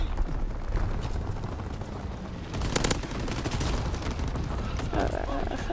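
Dense, continuous gunfire and blasts in the World War II shooter Call of Duty WW2, a steady chatter of rapid shots with a louder burst partway through, under heavy game noise.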